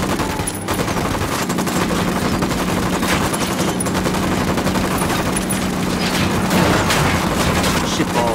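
Sustained heavy gunfire from a Ghost Recon Wildlands firefight, dense overlapping automatic bursts and booms forming a loud continuous roar with no break.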